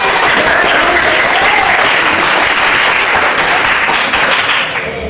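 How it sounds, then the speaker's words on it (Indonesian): A classroom of students claps together in loud, continuous applause that fades slightly at the end. "Tepuk tangan untuk kalian semuanya."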